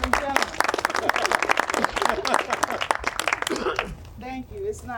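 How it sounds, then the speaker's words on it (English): Audience applauds at a community solar farm ribbon cutting ceremony, a loud burst of dense clapping that fades out after about four seconds, followed by a brief spoken voice. "It's not often one receives applause before they say anything."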